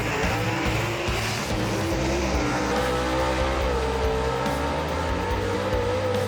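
Loud, continuous roar of '55 Chevy gasser drag cars racing at Knoxville Dragway, dense engine drone filling the whole stretch with a rising pitch sweep as they run, with hints of tire noise.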